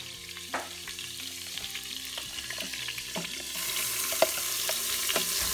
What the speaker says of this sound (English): I'm gonna saute these onions and garlic in the same pan